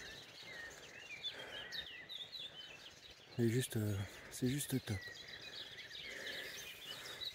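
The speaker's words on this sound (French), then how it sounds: "les oiseaux qui chantent" Small birds chirp and twitter repeatedly in a quiet countryside setting by flowing water, a gentle stream murmuring beneath; someone speaks briefly in the middle, his voice louder than the birdsong.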